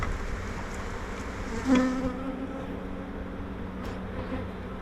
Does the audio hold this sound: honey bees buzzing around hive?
yes